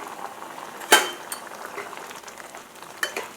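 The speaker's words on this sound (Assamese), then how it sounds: "এতিয়া মই এইখিনি অলপ লৰাই দিওঁ।" Bottle gourd stems simmering in a pan while a utensil stirs them: a soft bubbling, sizzling bed with a sharp metallic scrape or clink near the start and another near the end.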